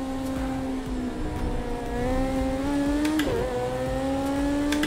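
A race car engine in the racing game Project Cars 2 holds a loud, steady high whine, briefly dipping at a quick gear change before climbing again, with no talking over it.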